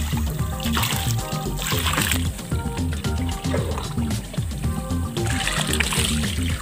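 Molasses is poured evenly into a biofloc fish pond, a continuous splashing and trickling of liquid into water, steady and close, heard alone without talk.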